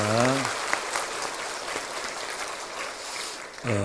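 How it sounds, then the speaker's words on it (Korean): Congregation at a church anniversary thanksgiving service in Mokpo applauding, a broad steady wash of clapping filling the room, with a voice briefly heard at the start and again at the end. "모든 영광 하나님께 영광의 박수로 올려드리겠습니다"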